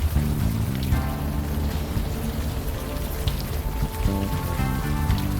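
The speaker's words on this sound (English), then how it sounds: "Still raining." Steady rain pattering down in a video game, Unavowed, a dense continuous hiss with a low rumbling tone running underneath throughout.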